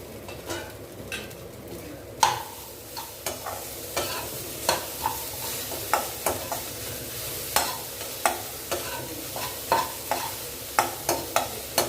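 A spoon stirs sago pearls into onions sautéed to a light brown in a pan, giving repeated scraping strokes in a steady rhythm over a soft, continuous sizzle, close and clear with no voices.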